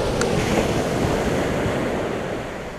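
Ocean surf washes steadily onto a beach, a continuous loud roar of breaking waves mixed with gusty wind buffeting the microphone, with no pauses or voices.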